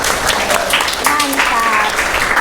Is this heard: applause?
yes